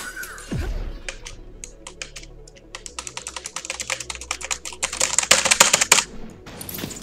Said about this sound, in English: With me bashing my keyboard because